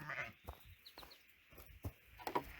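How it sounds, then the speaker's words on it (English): Sheep bleating on a farm during daily chores, a few short faint bleats scattered among rustling and scuffing noises, somewhat distant, with no talk. "half of the freaking sheep are out"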